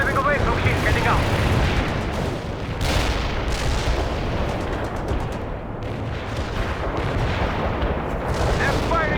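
Heavy artillery fire in the video game World in Conflict, a dense continuous barrage of booming blasts and rumbling explosions, loud and close, with radio voices talking over it.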